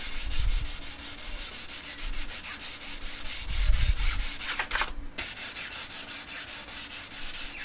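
Electric guitar body being sanded by hand with 800 grit sandpaper on the clear coat, close rhythmic back-and-forth scrubbing strokes with a brief pause near the end.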